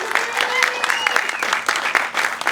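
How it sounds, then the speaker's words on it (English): A radio station lounge audience claps steadily for a couple of seconds, a dense, lively patter of many hands close by. "So quick round of applause for them"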